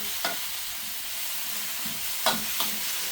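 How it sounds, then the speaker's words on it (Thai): Water mimosa and fresh shrimp sizzle in a pan over high heat, a steady loud frying hiss broken by a few brief scrapes and clinks of stirring, with no talking. "ผัดด้วยไฟแรงนะครับแต่ผัดไปใช้เวลาน้อยๆ"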